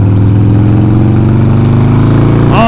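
A Harley-Davidson Sportster 1200 motorcycle engine rumbles loud and close with a deep, throbbing idle that holds steady before a short rev at the end.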